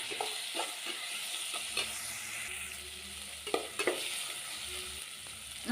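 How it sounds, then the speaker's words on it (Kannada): Beetroot palya with tomato and salt fries and is stirred in a pan, giving a continuous soft sizzle with occasional scraping clicks of the spoon, moderately quiet and without voices. "ಈ ರೀತಿ ಚೆನ್ನಾಗಿ ಫ್ರೈ ಮಾಡ್ಕೊಳ್ತಾ ಇದ್ದೀನಿ"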